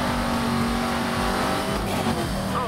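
A Bugatti Veyron races in Need for Speed Most Wanted: a steady high-revving engine roar stays loud and continuous throughout, with faint tire noise and no talking.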